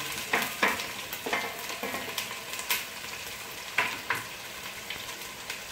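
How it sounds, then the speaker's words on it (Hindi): Onions fry in a pan for chana pulao, a steady crackling sizzle with irregular spoon scrapes and clinks against the pan, close up and without talk. "सबसे पहले हम प्याज फ्राई करेंगे। और प्याज को ज़्यादा फ्राई नहीं करना है"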